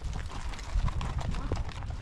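A herd of horses out on open ground, hooves clip-clopping in a steady muffled patter against a rumbling outdoor background, with a voice talking over it.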